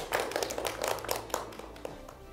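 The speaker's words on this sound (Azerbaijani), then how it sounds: "komandanı alqışlamaq lazımdır" An audience at a quiz show gives a short burst of fairly quiet applause for a team, with a rapid patter of hand claps that thins out after about two seconds.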